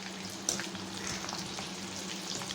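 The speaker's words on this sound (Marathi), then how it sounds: "आता यामध्ये आपण थोडी थोडी भेंडी टाकून अशी मस्तपैकी अशी तळून घेऊया आणि हाय फ्लेमवरच गॅस ठेवायचा आहे" Okra pieces deep frying in hot oil over a high gas flame, a soft continuous crackling sizzle with small pops, close but fairly quiet.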